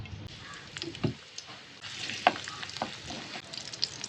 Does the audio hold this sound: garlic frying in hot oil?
yes